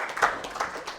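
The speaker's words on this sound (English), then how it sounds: "Round of applause for Chris again." Brief burst of audience applause at a live podcast recording at the IATP 2024 conference, a few scattered claps rising and falling over about a second, fairly close and without talk.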